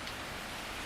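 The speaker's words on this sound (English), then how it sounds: "The rain was pouring down so hard" Heavy rain pouring down on a flooding marsh during a windy storm, a dense, even hiss of falling water that fills the whole moment, close and steady, with no voices.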